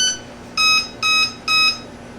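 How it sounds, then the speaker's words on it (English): Electronics in an E-Flite Valiant 1.3m RC plane beeping as the battery is plugged in, a short sequence of three clear, even electronic tones with no voices. "You got your beeps."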